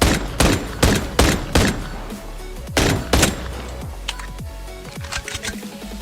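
Gunfire effects from the Call of Duty Mobile Girls' Frontline collaboration weapons: several loud, sharp shots in quick bursts, then a pause and two more blasts, followed by fainter mechanical clicks and metallic handling sounds, with no talking.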